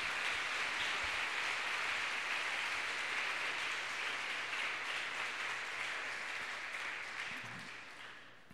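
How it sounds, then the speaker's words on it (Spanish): Congregation in a church applauding at length during a Sunday sermon, a dense steady wash of many hands that gradually fades toward the end. "Denle un gran aplauso al Señor."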